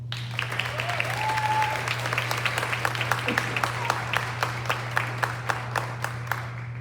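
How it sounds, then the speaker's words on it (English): Sparse, rhythmic clapping from an audience at a 2021 school awards ceremony, a small group of distinct claps repeating steadily, moderately near, over a constant low hum, with a brief voice early on. "So please give a round of applause."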